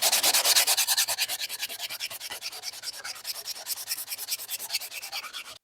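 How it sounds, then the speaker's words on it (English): A metal kamado grill handle being sanded with 120-grit sandpaper: fast, steady back-and-forth scrubbing strokes, close and rhythmic, with no talk. "after taking the handle metal off, I'm going to tackle that with the sandpaper"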